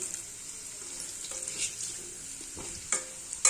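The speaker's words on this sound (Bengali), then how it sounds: "ভেজে রাখা আলুগুলো সব দিয়ে দিই" Already-fried potatoes stirred in a hot pan, with a steady, close sizzle and a few scraping stirs and light clacks of the spoon.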